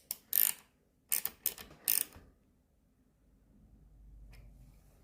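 Walking foot sewing machine having its presser foot height adjusted, giving four or five sharp metallic clicks and clunks in the first two seconds, then a faint low hum near the end.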